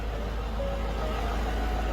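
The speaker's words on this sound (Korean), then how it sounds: "이렇게 좋은 차량 엔진 소리 한번 들려봐 드리도록 하겠습니다." A 2020 Genesis G90 Prestige with a 5.0-litre engine runs steadily, giving a continuous low, even hum close by with no talk over it.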